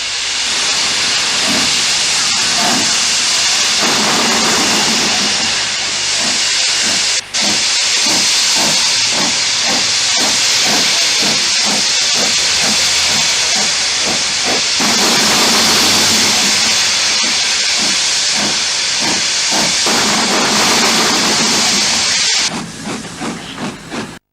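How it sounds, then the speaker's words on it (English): Peppercorn A1 Pacific steam locomotive pulling away with a northbound express, loud steady hiss of steam overlaid by a rhythmic, accelerating chuff of exhaust beats close by, with no voices. "Peppercorn A1 Pacific Aboya about to depart with an express for the north"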